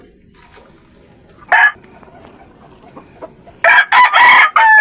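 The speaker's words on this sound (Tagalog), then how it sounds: "Yan, so nangingitog na yan" A Talisayin rooster, a young cockerel from a backyard flock of tethered chickens, gives short clucks early and then a loud, rising crow near the end, standing out against quiet surroundings.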